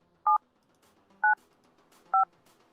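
Three short touch-tone keypad beeps, evenly spaced about a second apart, dialed into a trucking logistics company's automated phone menu, clear and alone over a faint background hum.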